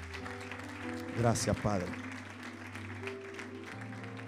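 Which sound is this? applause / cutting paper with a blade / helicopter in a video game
applause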